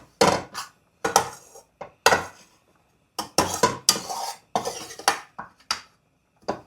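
A spoon scrapes and clanks against a pan as flour is stirred into melted butter for a white sauce roux, in sharp irregular bursts with short quiet gaps between them.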